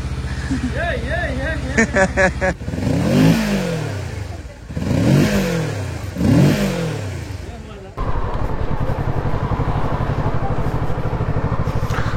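Engine revving rises and falls three times in quick succession, loud and close, then settles into a steady rumble, with voices heard early on.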